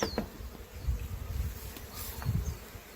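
Honeybees buzz around exposed comb at a bee sanctuary, a soft continuous insect hum with individual bees droning close by and drifting past, no talking.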